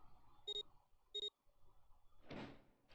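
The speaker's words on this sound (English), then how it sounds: "Do the beeps, pull the lever, open the door" Electronic door keypad in Nine Hours, Nine Persons, Nine Doors gives two short, clean beeps about half a second apart, followed by a brief whooshing slide of the door opening, with faint background ambience.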